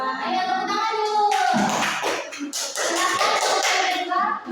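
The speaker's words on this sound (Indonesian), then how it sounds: "Ayo tepuk tangan dulu." Classroom audience applauding after a micro-teaching presentation, a dense burst of hand claps that swells midway and carries on steadily alongside children's chatter and voices.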